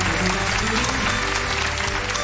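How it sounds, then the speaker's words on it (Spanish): Studio audience at a Spanish afternoon TV show breaks into sustained, dense applause, steady and loud throughout with no voices standing out. "Un aplauso, por favor"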